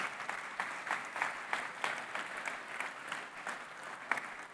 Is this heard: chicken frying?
no